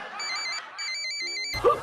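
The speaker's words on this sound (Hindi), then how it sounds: "फोन उठाओ" A mobile phone rings with a repeating electronic ringtone melody, clear and fairly close, with no one talking over it before a brief rustle at the end.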